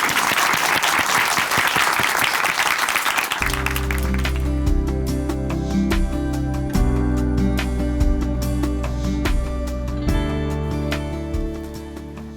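A church audience at a Chuncheon Hanmaeum Church testimony program gives a burst of applause to welcome a speaker. The loud, dense clapping lasts about three seconds before giving way to steady instrumental music.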